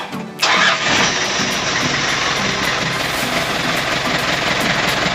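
A car engine cranks and catches, bursting into a loud, steady rumbling idle that carries on close by with no talking.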